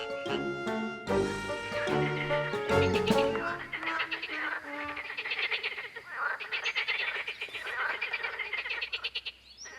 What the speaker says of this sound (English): Male green frogs and tree frogs have particularly powerful voices.